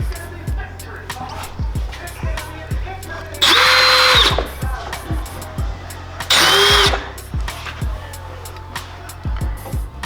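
A power drill whines in two loud bursts, boring through a car's body panel near hood-pin mounting, separated by clicks, knocks and handling noises with brief talk nearby.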